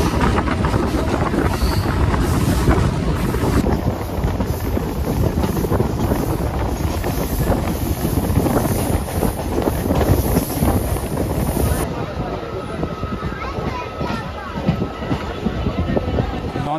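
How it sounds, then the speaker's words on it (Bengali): Local train pulling out of Kanthi railway station: a steady, loud rolling rumble with heavy wind buffeting the microphone throughout, no clear voices. "তো ছেড়ে দিল আমাদের ট্রেনটি কাঁথি রেলওয়ে স্টেশন থেকে।"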